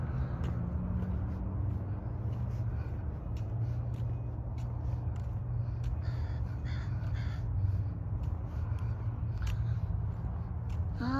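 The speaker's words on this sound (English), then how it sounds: "Lots of birds." Crows caw repeatedly in a big city park in Williams Lake, British Columbia, with harsh calls rising over a constant low rumble of distant traffic.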